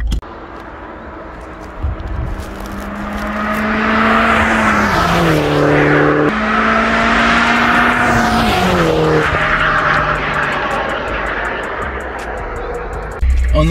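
A car races and slides, its engine revving up and down in strained pitch sweeps, with tyres scrubbing as it skids; voices talk faintly beneath the loud engine noise.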